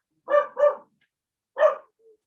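A dog barks outside in three clear, separate barks, two in quick succession and then one more after a pause, ending with a faint short whine, against otherwise silent surroundings.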